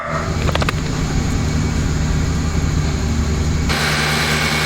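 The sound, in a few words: Fiat Uno engine idling after ignition timing advanced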